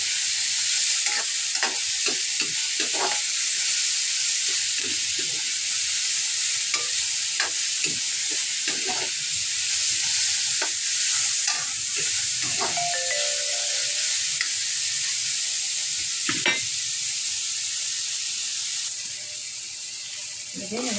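Tomatoes stir and fry in a small pan for a simple pechay dish, a constant bright sizzle broken by scraping utensil strokes against the pan, close and steady throughout.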